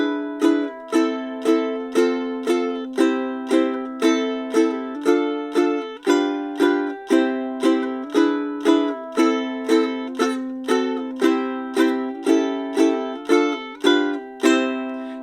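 A ukulele strums Waltzing Matilda in a steady, even pulse of two strums per chord, each strum ringing bright and close before the next, with no voice over the playing.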